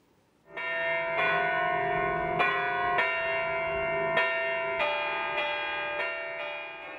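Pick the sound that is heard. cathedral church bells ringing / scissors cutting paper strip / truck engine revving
cathedral church bells ringing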